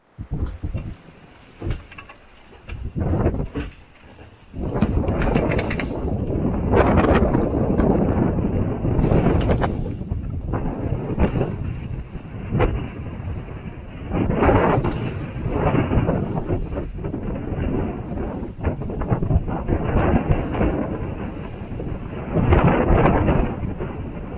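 Strong wind of about 25 knots buffets the microphone aboard a sailboat in loud, rushing gusts that rise and fall, roaring almost continuously with brief lulls.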